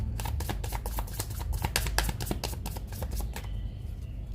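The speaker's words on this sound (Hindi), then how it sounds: "और क्लियर करते हैं हम कार्ड्स को" Tarot cards are shuffled by hand in a quiet room, a steady close riffle of soft flicking taps lasting several seconds before it stops.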